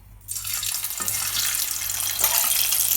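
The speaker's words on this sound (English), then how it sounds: "in a pan I've got 1 inch or 2 of oil to fry in, and we're just going to lower these potatoes" Potatoes go into a pan holding an inch or two of hot frying oil, setting off a steady, bright sizzle and crackle that starts abruptly and carries on close and alone.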